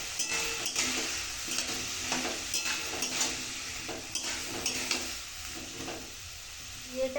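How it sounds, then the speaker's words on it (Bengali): Vegetables stir-fried in a pan with turmeric and salt: continuous sizzling broken by repeated scraping strokes of a spatula against the pan, close and fairly loud, with no voices. "সবজিটা এবার আমি ভাজা করে নেব"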